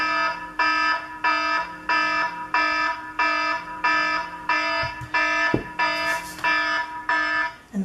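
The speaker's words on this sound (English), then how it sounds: "And there's my alarm." A loud electronic alarm beeps close by in a steady repeating pattern of harmonic buzzing tones separated by short gaps, with a few brief handling knocks in between.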